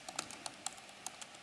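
Quiet, close computer keyboard typing during live coding, a run of uneven light key clicks with short gaps and no talking.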